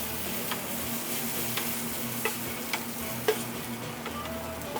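Shallots and garlic fry over high heat in a pan as the start of a beurre blanc, giving a steady close sizzle broken by several sharp ticks and clinks from stirring.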